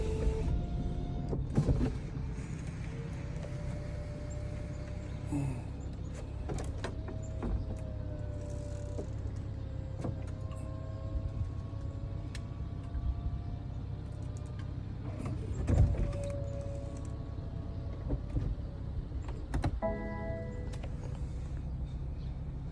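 Electric folding roof on a BMW 440 xDrive convertible, heard from inside the car as a long whirring motor drone with clicks and mechanical clunks as the panels move, ending in a few thumps.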